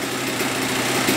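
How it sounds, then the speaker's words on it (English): A $700 dirt bike that wouldn't run or shift now idles steadily, a loud, close, even engine putter with no speech over it. "Idling."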